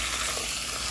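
Chicken sautéing with garlic in a pan gives off a steady, close, even sizzle that fills the moment without pause.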